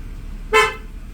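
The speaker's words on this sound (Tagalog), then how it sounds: "Pangatlo guys is yung horn." A used car's horn gives one short, bright toot, loud and close, with faint engine hum and background noise on either side.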